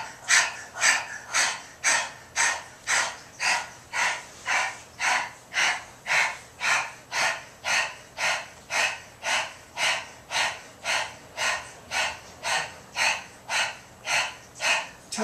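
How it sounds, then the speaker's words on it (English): Breath of fire yoga breathing with the tongue out: rapid, rhythmic panting breaths, about two per second, close and even, continuing steadily throughout with no talk. "breath of fire with the tongue out"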